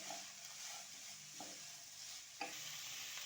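Grated potato with chopped green chilli fries in a pan, a faint steady sizzle with a few soft stirring scrapes, quiet and close with no talking.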